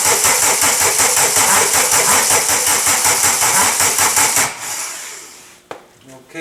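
A 1985 Volkswagen turbo diesel, cold after sitting nine and a half years, cranks loudly and steadily with a fast rhythmic starter chug for about four seconds, then stops, leaving quiet with a brief click.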